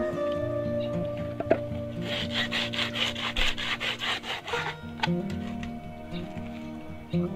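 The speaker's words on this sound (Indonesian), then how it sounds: "Selanjutnya kita amplas supaya lebih" Hand sanding of a small handmade wooden stool, with a steady run of rhythmic rasping strokes against the wood. The strokes are close and fairly loud, and a faint background hum sits underneath.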